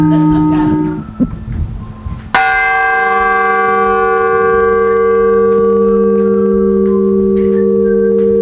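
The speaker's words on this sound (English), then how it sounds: "you need a clock to ring the chimes" Lawson Tower's carillon chimes ring out loud and close, struck by the clock mechanism. A few rapid strikes are followed by one strong bell tone that hangs and slowly decays for several seconds.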